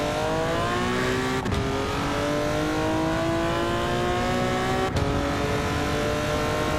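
A Porsche 917 race car screams along a racing game track, its engine note climbing steadily through the gears with two sharp gear changes, loud and continuous throughout.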